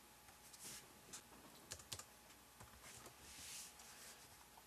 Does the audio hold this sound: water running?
no